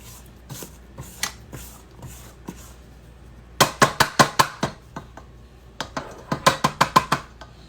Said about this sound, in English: And I'm going to scrape down the sides.